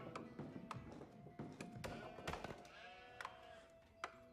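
Sheep in a video game bleating repeatedly, several overlapping calls with short tapping clicks between them, moderately loud with no talk.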